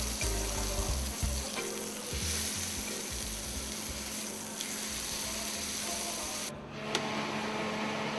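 Meat frying in a pan, with a steady close sizzle and some faint stirring and scraping underneath.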